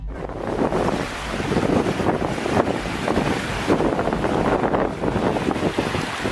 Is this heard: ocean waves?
yes